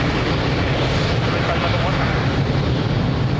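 A fixed-wing airplane taking off from runway 02 at Lisbon Airport, producing a loud, steady, broadband engine roar that fills the whole stretch without pause or other sounds.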